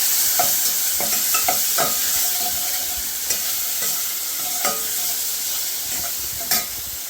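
Tomatoes and turmeric are stirred in a hot pan for South Indian tomato rasam: a steady sizzle runs under repeated scraping and clinking of a spoon against the pan, continuous and close.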